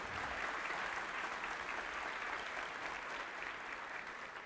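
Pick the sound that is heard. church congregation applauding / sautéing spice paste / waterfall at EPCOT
church congregation applauding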